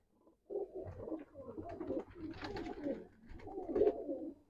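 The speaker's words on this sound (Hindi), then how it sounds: "एक से बढ़कर एक कबूतर है इसमें," Several Rampuri and Sialkoti pigeons offered for sale keep up a steady run of throaty cooing for a few seconds, close and moderately loud, with overlapping calls and no voices.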